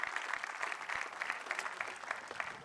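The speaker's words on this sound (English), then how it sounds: "Please give them a large round of applause." An audience claps for the Genesis Choral choir at the Rebild festival, a brisk, even round of applause with crisp individual claps, fairly close and alone without voices.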